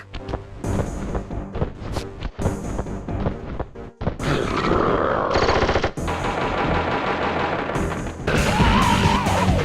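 Heavy automatic gunfire rattles through a Sly Cooper video game cutscene in long rapid bursts, loud and close, mixed with crashes, impacts and a brief pause before the firing resumes.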